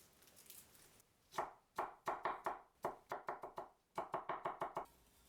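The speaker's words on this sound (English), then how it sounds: "Chop 4 cloves of garlic." A knife chops garlic cloves on a cutting board, crisp close knocks coming in quick irregular runs of several strokes with short pauses, over a faint background hiss.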